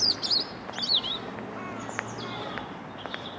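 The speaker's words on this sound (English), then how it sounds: "The birds don't like me being about." Small birds chirp and tweet in short sharp bursts, louder at first then sparser, over a quiet outdoor hum at a Lakeland-stone railway station beside the promenade at Grange-over-Sands.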